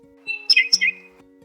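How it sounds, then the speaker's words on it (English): Baby birds chirp in a nest in a tree, a few short high bright tweets clustered together over a faint steady background tone. "Peppa points up at a tree. Oh, she says, baby birds in the nest."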